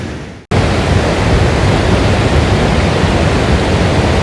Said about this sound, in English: The surf is pumping here, there's a river flowing here